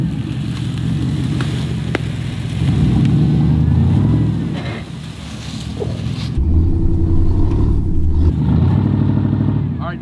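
A built Chevrolet Tahoe's engine drones and surges as it climbs a steep off-road trail, loud and close, swelling with throttle and easing off, with voices talking over it.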